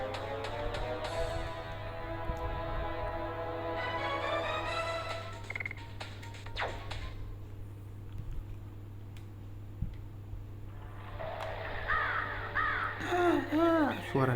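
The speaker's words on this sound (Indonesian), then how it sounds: "Suara gagak gitu loh" A crow caws in The Legend of Dragoon video game, a few harsh repeated calls at the start and again near the end, with people talking over the game sound.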